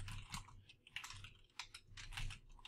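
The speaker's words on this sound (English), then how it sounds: "So I would just type out my message," Someone types an email on a computer keyboard, a soft, close patter of rapid keystrokes in uneven bursts with no talk.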